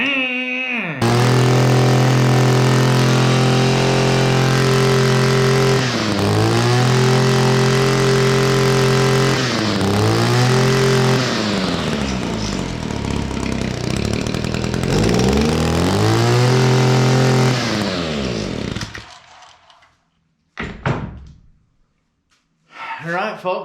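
An Echo SRM266 string trimmer's small two-stroke engine runs loud and close after a new carburetor install, revving up and down in repeated surges for about twenty seconds before cutting out, then a brief restart burst.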